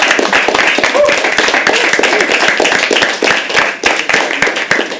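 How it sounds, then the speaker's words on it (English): Audience at a live poetry open mic at The Habitat clapping and cheering, sharp close hand claps in a fast irregular patter with voices cheering underneath, loud and sustained. "for clapping, for cheering for people that you don't even know"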